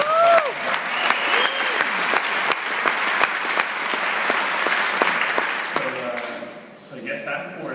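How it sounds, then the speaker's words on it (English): A summit audience applauds Mayor Aide Castro and Mayor Asia Brown, sustained crowd clapping that fades after several seconds, with voices and a few whoops mixed in. "A big round of applause for Mayor Aide Castro and Mayor Asia Brown."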